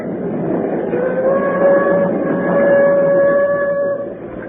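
A train sound effect in a 1938 radio drama of The 39 Steps, a loud rumbling of rolling rail cars with a sustained whistle-like tone running through it, alone without talk.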